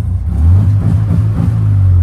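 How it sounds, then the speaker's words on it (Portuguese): A 1974 Volkswagen Beetle with a non-tuned aftermarket exhaust rumbles loudly and close by, its deep idle rising and falling through a few gentle revs. "E olha o ronco desse carro"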